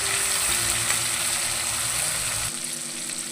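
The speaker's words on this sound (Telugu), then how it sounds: "ఈ టమోటాలని ఎరగడ్డల్ని చక్కగా మగ్గనిద్దాము" Chopped tomatoes and onions frying in a pan, a loud, dense, continuous sizzle heard up close that eases slightly toward the end.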